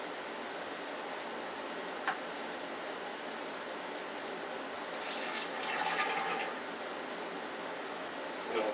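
Elderberry wine drawn through a racking cane and hose during racking, a quiet steady liquid hiss and trickle with a brief gurgle midway, close and low in level, no talking.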